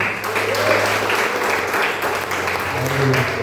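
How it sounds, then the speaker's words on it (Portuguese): A church congregation claps together during a worship service, steady applause running throughout with a voice briefly heard among it. "Aplaude, Senhor."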